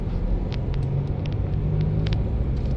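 Steady low engine rumble and road noise fill the cabin of a moving car, constant and close, with faint scattered clicks and rattles above and no talking.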